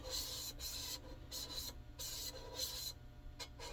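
Metal rubbing against metal as a piston is lapped to free a sticking valve: repeated rasping strokes in an uneven back-and-forth rhythm, close and steady, with no talk.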